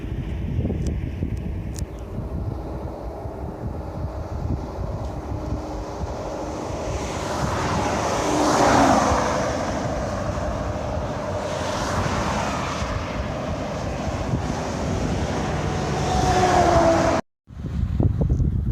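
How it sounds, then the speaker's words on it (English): Steady, loud wind roars and buffets continuously near Lake De Smet, Wyoming, with a broad rushing noise that swells in the middle, then cuts out abruptly near the end. "Getting kind of windy."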